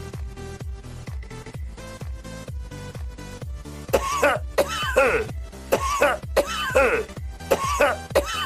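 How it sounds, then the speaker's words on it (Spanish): Repeated harsh coughing fits from a person sick after being out in the rain, a rapid series of close, loud coughs that grow more strained and raspy toward the end, with no speech. "¡Ay! Molesta tos por la culpa de la lluvia, me enferme."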